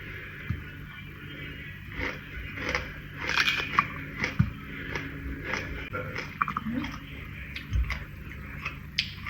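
Cold fruit straight from the fridge is bitten and chewed close to the microphone, with repeated crisp bites and wet chewing sounds scattered irregularly over about nine seconds.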